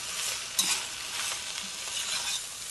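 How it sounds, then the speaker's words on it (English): Vegetables seasoned with plenty of pepper being stirred in a soup pot, a steady hiss of frying with one sharp scrape of the utensil early on, close and without talk. "So I'm just going to keep cooking this around."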